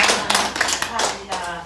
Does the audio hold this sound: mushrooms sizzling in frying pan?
no